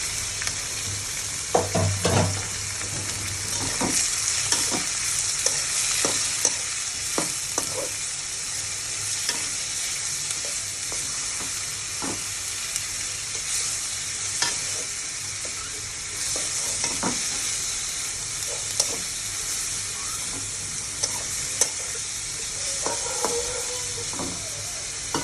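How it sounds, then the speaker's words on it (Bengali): Shrimp seasoned with salt and turmeric frying with onions in a pan, a steady sizzle broken by scattered stirring clicks and scrapes that continue throughout. "এটা আমি পেঁয়াজের সাথে ভেজে নেব।"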